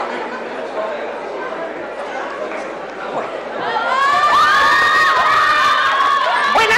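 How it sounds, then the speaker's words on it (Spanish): A large crowd of supporters at the Martín Fierro Federal 2014 awards ceremony bursts into loud cheering, whistles and shouts, rising from a steady murmur into a sustained roar. "han traído una gran hinchada, los que hasta ahora recibieron más aplausos."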